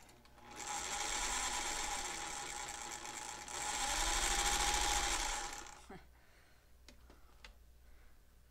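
A vintage sewing machine runs in a steady whirring, rattling stitch for about five seconds, speeding up partway through, then stops, followed by quiet clicks and faint handling noises.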